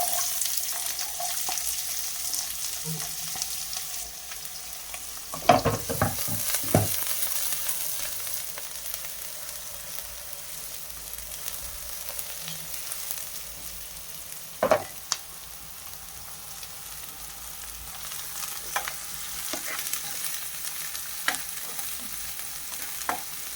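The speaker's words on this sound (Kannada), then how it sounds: "ಈರುಳ್ಳಿ ಆಲ್ಮೋಸ್ಟ್ ಸ್ವಲ್ಪ ಗೋಲ್ಡನ್ ಬ್ರೌನ್ ಬರೋವರೆಗೂ ಫ್ರೈ ಮಾಡ್ಕೋಬೇಕು" Onions frying with cumin in a pan, a low steady sizzle broken by a few louder scrapes and clatters of stirring, close and with no talk.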